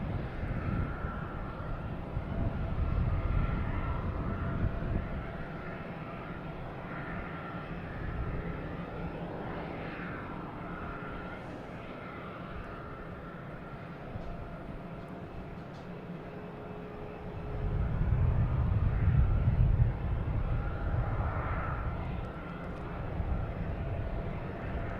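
An American Airlines Boeing 737-800 jet at Boston Logan Airport gives a long, low engine rumble and roar at a distance. It swells louder toward the end, with steady airport background noise throughout.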